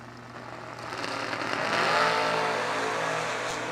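Two 1967 Chevy drag cars launch off the line at a drag race, the engine roar building over a second and swelling into a loud, steady blare.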